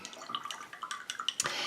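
Water trickles and drips into Gansai Tambi Starry Colors watercolor pans, including the blue gold, a close, faint run of small liquid drips and splashes with no talk.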